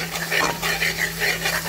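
Kashmiri chilli and turmeric powder being stirred into a Bengali malai prawn curry in a pan, giving a steady soft scraping and gentle sizzle in repeated strokes, close and moderate in level, with a low constant hum beneath.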